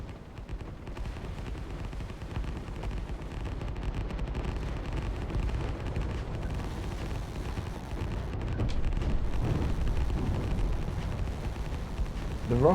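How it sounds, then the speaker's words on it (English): A rocket fires and explodes in the naval strategy game Line War, heard as a sustained roaring, rumbling barrage of blasts that swells louder near the end, with no voices over it. "The rocket fires once again."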